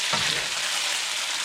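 Tomato sauce cooks in a pan with chicken, giving a steady, close frying sizzle and a brief stirring scrape near the start, with no talking.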